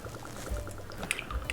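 Lemon juice is poured slowly into a cocktail shaker, a soft, close liquid trickle with faint drips and light clinks, and no talk.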